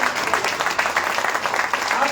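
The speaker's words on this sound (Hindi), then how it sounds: "तालियों से स्वागत" Audience clapping to welcome a party official at a political gathering in India, a steady patter of many hands applauding together without a break.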